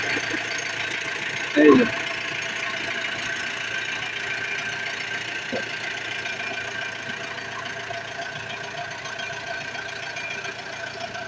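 A road roller soil compactor's engine idles with a steady, low diesel rumble after a brief knock near the start, while someone says a short phrase over it.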